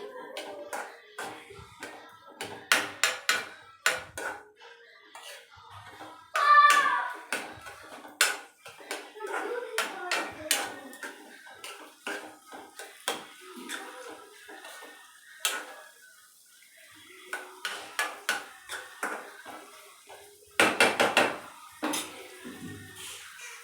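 Egg fry ingredients mixed in an oiled pan: irregular scraping and clattering of a spoon against metal in short bursts with pauses, close and moderately loud, with a brief spoken remark.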